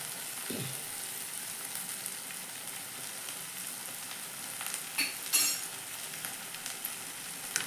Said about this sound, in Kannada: ಇದನ್ನು ಚೆನ್ನಾಗಿ ಫ್ರೈ ಮಾಡಿ